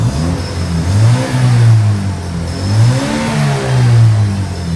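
A car with a sport exhaust and no muffler revs hard and loud up close, the engine note rising and falling in repeated surges with a raw, throaty drone.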